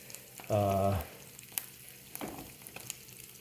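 Eggs and four half pieces of bacon frying in a pan, giving a steady, close sizzle with a brief loud humming tone early on and small crackles scattered through.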